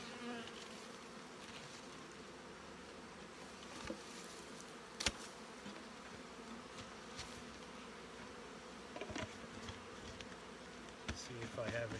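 Honey bees from an opened hive colony hum in a steady, close, continuous buzz, with brief clicks and rustles of handling over it.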